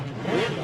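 A nitrous-injected drag race motorcycle revs at South Coast Raceway during qualifying, a steady mid-pitched engine drone that swells briefly and stays fairly loud and close throughout, with no voices over it.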